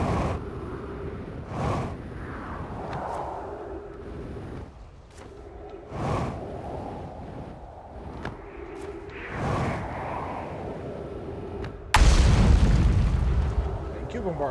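Repeated heavy explosion booms from a bombardment in the Outer Wilds video game, several bursts spaced a few seconds apart with a louder, sharper blast near the end, heard under a man's speech.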